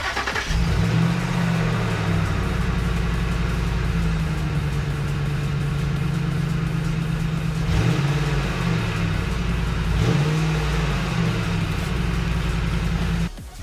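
A 2002 Ford F-150 engine cranks and starts, then runs at a loud steady idle with a few brief revs rising and falling, close by, with no talking.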